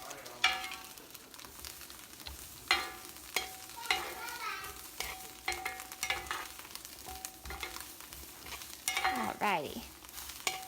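Polenta, asparagus and Italian-seasoned steak sizzling on a grill, a close crackling hiss with repeated sharp clicks and scrapes of tongs, and a voice speaking briefly near the start.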